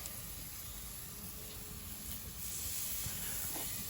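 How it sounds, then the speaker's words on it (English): Bacon-wrapped steak fandangos sizzling on a Kamado Joe grill, a steady close hiss of fat crackling over the coals with no talk. "You can hear them sizzling."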